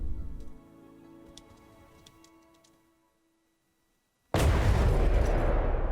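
A loud, dense burst of weapon fire in the naval combat game From the Depths, aimed at a heavily armoured target, erupts suddenly after a quiet stretch and sustains a roaring blast to the end.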